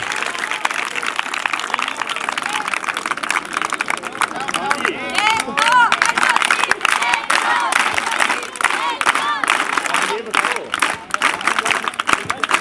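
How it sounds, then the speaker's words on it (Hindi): Schoolgirls at a government girls' school clap a rhythmic scout clap together, a dense crowd of hand claps mixed with chatter and cheering from the group. "एक बार आपकी स्काउट ताली भी होगी कोई,"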